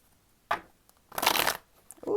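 Tarot cards riffled and shuffled by hand in two quick bursts, a short one then a longer crisp flutter, close and fairly loud with a voice starting at the end.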